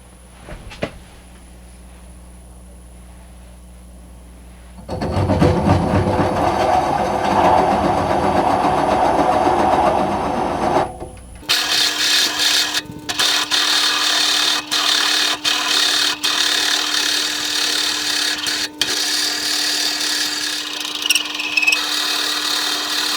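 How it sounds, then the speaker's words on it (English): A wood lathe spins a cherry wood pot at about 250 RPM while it is hollowed out. After five quiet seconds, a loud, steady grinding roar of tool on wood begins, then shifts to a steadier hum with repeated sharp scraping bursts. "now we're going to start hollowing out the middle. So I'm turning about 250 RPM."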